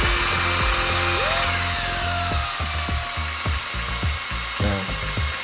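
A stepper motor driven as a generator runs faster and faster, its tonal whine climbing in pitch over a steady mechanical rumble and rattle, loud and close.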